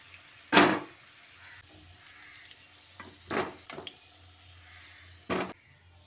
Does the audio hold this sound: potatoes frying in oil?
yes